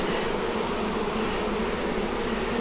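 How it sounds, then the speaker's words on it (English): Honeybees swarm densely around a beehive, a loud, close, continuous buzzing drone that fills the whole moment without any voices. "Just heavy with bees."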